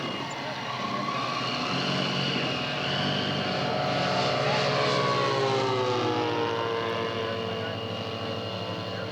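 A scale model airplane's electric motor whines steadily and loudly up close during taxiing, its pitch rising and falling a little as it rolls along, with voices murmuring underneath.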